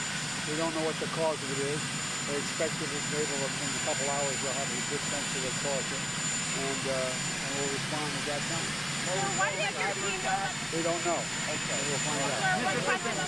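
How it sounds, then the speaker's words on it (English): Steady helicopter engine and rotor roar on the White House south lawn fills the background continuously, largely masked by someone speaking to reporters throughout. "you could hear the helicopter noise in the background"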